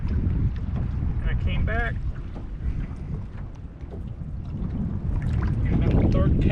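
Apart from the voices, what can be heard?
wind blowing on a boat during fishing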